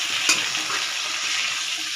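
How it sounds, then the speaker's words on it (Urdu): Potatoes fry in a pan with browned onions, giving a continuous close sizzle and hiss with one brief stirring clatter near the start. "آلو کو گولڈن ہونے تک بھی اس کو بھونیں گے"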